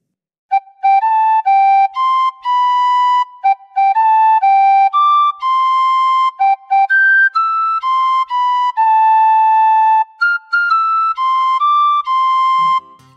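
Happy Birthday is played on a tin whistle, a clear, bright, close melody of breathy, pure high notes phrased in short groups with brief gaps, with no talk.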